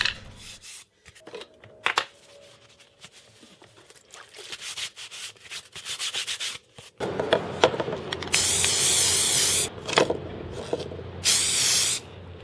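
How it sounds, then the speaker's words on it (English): Short hissing bursts from a spray can of lacquer, several separate sprays with pauses between, close up, alongside some rubbing and handling noises. "I'm using several coats of spray lacquer to finish off the object."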